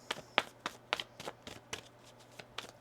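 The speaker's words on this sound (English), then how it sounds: "One more shuffle here." Tarot cards being shuffled by hand, a run of about ten crisp riffling bursts in a steady rhythm, close and fairly quiet with no voices.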